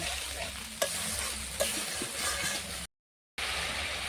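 Masala with sour curd and a little water fries and is stirred in a pan, a loud steady sizzle with a couple of utensil knocks, broken by a brief silent gap before the sizzling resumes.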